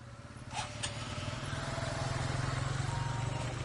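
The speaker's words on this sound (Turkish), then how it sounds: "Çalıştır motoru." A training motorcycle's engine starts and settles into a steady low idle that grows slightly stronger, heard at moderate distance on an Ankara riding course, with no clear talk over it.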